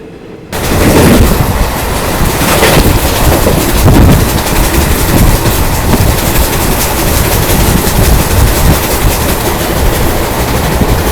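Circar Express pulling into Ongole railway station, a loud continuous rumble and clatter of wheels over rail joints filling the whole stretch after a quiet start, close and steady.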